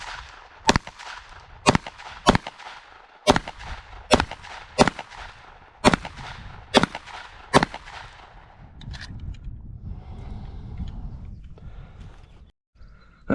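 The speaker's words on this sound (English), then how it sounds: "So let's see how well we can do with the Jericho." A Jericho 941 Compact pistol fires about ten sharp, loud shots in quick succession at a shooting range, with short uneven gaps between them, then a stretch of low rustling handling noise at the end.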